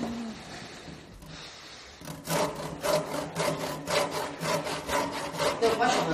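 Saw cutting through wood, a steady back-and-forth rasp of repeated strokes that grows louder and more rhythmic partway through, close and alone.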